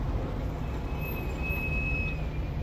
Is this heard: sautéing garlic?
no